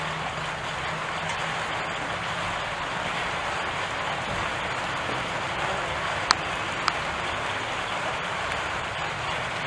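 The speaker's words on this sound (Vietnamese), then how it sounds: "Trời mưa rồi." Steady rain falls outdoors in a garden, a dense, even hiss of drops with a couple of faint ticks, continuous throughout and without speech.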